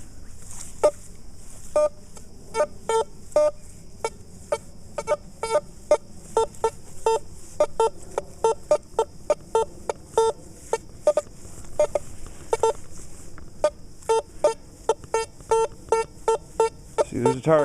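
Makro CF77 metal detector sounding a run of short, sharp beeping tones on a target, repeated in quick irregular bursts against a steady hum, no talking.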